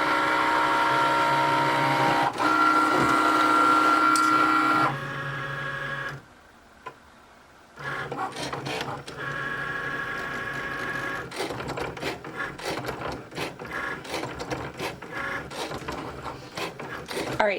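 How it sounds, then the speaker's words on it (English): A Cricut cutting machine slices vinyl on a mat with a continuous mechanical whir and ticking, broken by a brief quiet pause before the motorized cutting resumes and runs steadily. "And our Cricut light is blinking, so we can click that and it'll start to cut."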